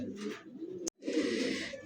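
A pigeon coos in low throaty bursts, close and fairly faint, split by a brief cut partway through.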